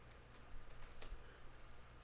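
Quick keystrokes on a computer keyboard while an attribute is typed into code, a short run of soft clicks over a low steady hum.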